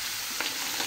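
Garlic, onion and ginger sautéing with mussels in a pan for tinolang tahong, a steady close hiss of frying with brief bursts of stirring.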